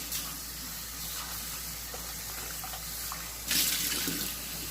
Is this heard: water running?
yes